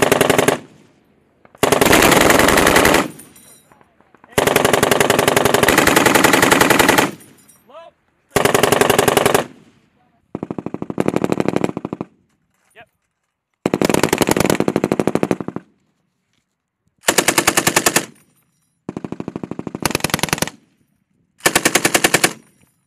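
M240B and M249 machine guns fire live rounds during U.S. Air Force security forces heavy-weapons training at the East Fuji range in Japan. Loud, close bursts of rapid automatic fire repeat about nine times, separated by short silences.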